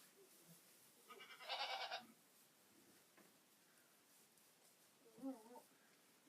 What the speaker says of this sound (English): There's a goat.